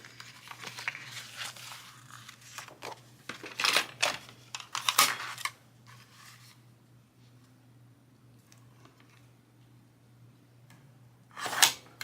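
Paper being scored with a tool for a handmade fall envelope journal, a few crisp scraping strokes with brief bursts, then a final quick stroke near the end, close and moderately loud with no talking.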